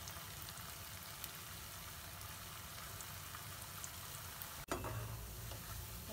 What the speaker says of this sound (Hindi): मीडियम फ्लेम में फ्राई कर रही हूँ